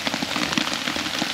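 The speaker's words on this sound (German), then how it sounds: "Im Wetterbericht steht, es regnet noch weiter, mindestens 2-3 Stunden so." Rain patters steadily on a tent surface during a night of kayak camping, a close, even drumming of drops without voices.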